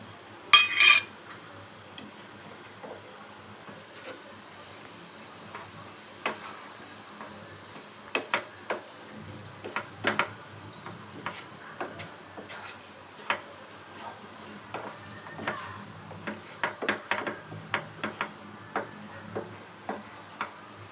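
A spoon clinks and taps against a dish while turmeric, coriander and chili powder are mixed, giving scattered light ticks and scrapes, faint and close, with a louder clatter at the start.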